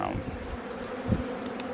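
Honeybees hum in an open hive during a December requeening, a quiet, steady low drone with occasional louder buzzes from single bees passing close.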